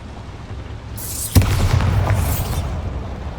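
The Bombarda explosion spell from Hogwarts Legacy goes off with a sudden loud boom and crackling burst, then a rumbling, hissing tail that fades over a couple of seconds.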